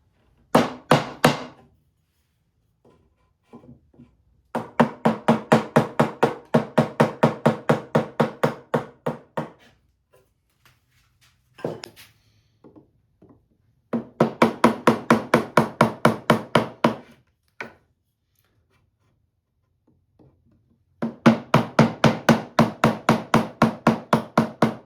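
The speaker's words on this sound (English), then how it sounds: "3/4 pine, I'm going to use a 1-inch chisel." A 1-inch chisel is driven into 3/4 pine, sounding as several fast runs of sharp, evenly spaced knocks, close and loud, separated by quiet pauses with occasional single taps.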